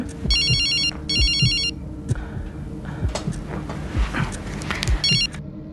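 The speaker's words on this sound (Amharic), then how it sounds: "በዚህ መሃል ስልኳ ይጠራል።" A telephone rings in repeated bursts, with three bright electronic trills separated by pauses, alongside clattering and ticking background sounds.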